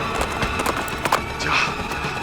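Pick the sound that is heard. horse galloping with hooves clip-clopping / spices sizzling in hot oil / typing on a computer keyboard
horse galloping with hooves clip-clopping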